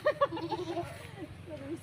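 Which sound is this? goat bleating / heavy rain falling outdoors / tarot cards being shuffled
goat bleating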